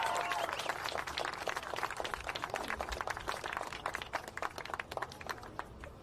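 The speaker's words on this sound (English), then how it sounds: "Clap it up for yourself." Audience applause at a rally of African American women standing with Rep. Ilhan Omar. It starts as a loud, dense burst of clapping and slowly thins into scattered, fainter claps.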